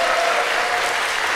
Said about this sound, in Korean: 여러분 다시 한 번 더 큰 박수 부탁드리겠습니다